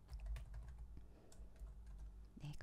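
A computer keyboard is typed on quietly while entering data into a spreadsheet, with a short run of faint, close keystroke clicks and no speech.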